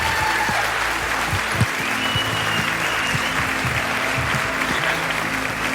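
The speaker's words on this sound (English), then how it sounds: "let's bring him in with a big round of applause" An audience applauds continuously to welcome a speaker onto a stage at an evening event, a dense, sustained clatter of many hands with a few louder claps standing out.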